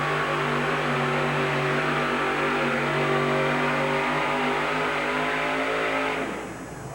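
A pulling truck's engine revs hard and loud at a 1987 USHRA truck pull in Tucson, Arizona, holding a steady, sustained roar with harmonic drone for several seconds before easing off abruptly near the end.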